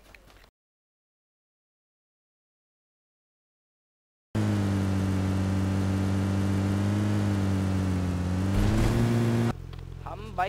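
A vehicle engine in PUBG Lite starts up after a silent gap, then runs loud and steady with a sustained hum, rising in pitch near the end before dropping back.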